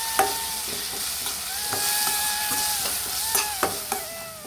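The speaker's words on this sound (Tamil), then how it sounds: "இது அப்படியே வதக்கி விட்டுருவோம் எண்ணெயிலேயே." Masala for black chana sautéing in oil, a steady bright sizzle with repeated scraping stirs and spoon clinks against the pan, close and continuous.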